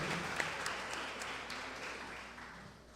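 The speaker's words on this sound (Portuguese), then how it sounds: "Aplauda o mais forte que você puder ao Senhor" A church congregation applauding at a prayer service, a dense wash of clapping held steady and even, fading slightly toward the end.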